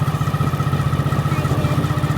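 A motorcycle engine runs steadily and close during a ride on a Nepal village road, with a throbbing low rhythmic pulse and a faint murmur of voice.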